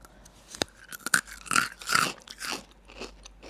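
Crunchy Japanese sesame biscuit stick snack being bitten and chewed up close, with crisp irregular crunches and snaps, and no talking.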